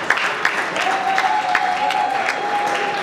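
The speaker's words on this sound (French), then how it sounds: "Nous demandons à ce que nous puissions acclamer pour l'honorable." Audience clapping for an honourable member at a formal assembly, a steady continuous patter of applause filling the whole stretch, with a sustained tonal whine running underneath.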